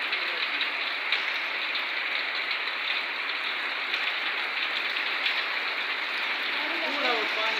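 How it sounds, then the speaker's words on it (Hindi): Heavy rain pours steadily in Sindh, Pakistan, a loud, continuous broadband hiss of drops on surfaces filling the whole stretch, with a faint voice near the end. "बहुत तेज़ स्पीड में बारिश भी पड़"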